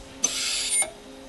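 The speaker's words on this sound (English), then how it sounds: "is all there is to an ultrasonic weld" An ultrasonic welder fuses a wire into a connector with a short, bright, high-pitched buzzing burst lasting about half a second, close and fairly quiet, with a small click at the start and no talking.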